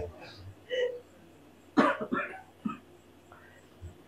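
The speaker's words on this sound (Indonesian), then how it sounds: "Batuk juga dia" A single sharp cough bursts out near the middle, with a couple of smaller throat sounds after it, amid low background murmur.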